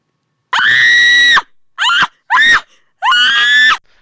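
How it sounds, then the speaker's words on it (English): Several loud, high-pitched screams ring out close by, one long shriek followed by two short bursts and another drawn-out scream. "Screams echo through the cloud palace of Rainbow Dash's home."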